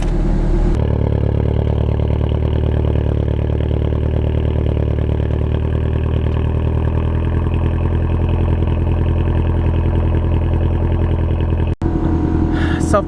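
Car engine idling just after starting: an abrupt start, then a steady, close mechanical hum and clatter with a regular pulse, holding evenly for several seconds before a brief break and a short burst of other noise at the end.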